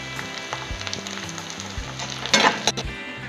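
Grated ginger dropped into a pan of already browned chopped onion sizzles steadily while frying for a bottle gourd bharta, with a brief louder burst of spattering partway through and some light stirring.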